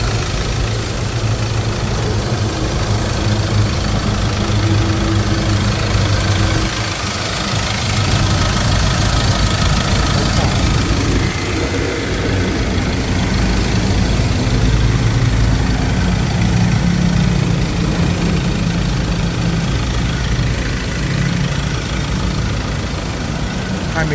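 A 2017 Mazda BT-50 pickup with an automatic gearbox and two-wheel drive idles close up with its engine bay open, a steady loud low hum and rattle that holds an even level for the whole stretch.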